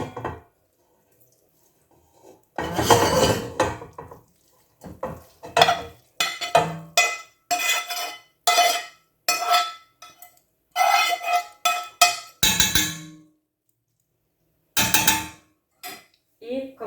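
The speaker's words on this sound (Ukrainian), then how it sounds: "Тепер беремо кастрюлю, в якій будемо варити ікру. Так, це все перекидаємо сюди." Fried vegetables for courgette (zucchini) caviar are tipped from a pan into a saucepan, a rattling scrape followed by a run of sharp rhythmic metal clangs and knocks of utensil against pot, close and loud, with no talking.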